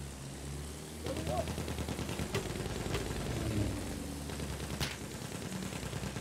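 Battlefield 1 gunfire in a multiplayer match: rapid, steady machine-gun bursts with a few sharper single cracks, running continuously at moderate distance under a low rumbling battlefield background.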